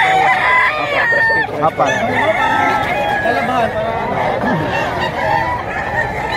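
A gold stag gamecock rooster crows at a cockfighting bird sale in Padre Garcia, Batangas, loud and near, over a busy crowd and an auctioneer talking.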